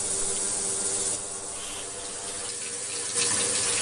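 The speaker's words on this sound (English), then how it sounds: "Holding the jewelry under running water will help remove the debris from the jewelry." Jewelry held under a running tap, with steady water hiss and rubbing splashes running the whole time, louder near the end.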